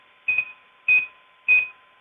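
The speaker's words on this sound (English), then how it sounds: "It beeps." A Cetus 3D printer gives three short, evenly spaced electronic beeps during initialization, clear and close against a quiet background hum.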